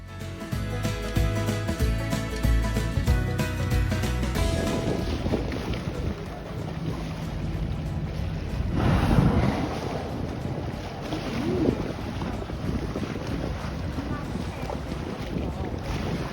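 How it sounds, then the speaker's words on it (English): A whale-watching boat's engine drones beneath gusting wind buffeting the microphone, with water washing and slapping against the hull throughout, off Twillingate. "Bobby and Skip went with us on a whale watching boat."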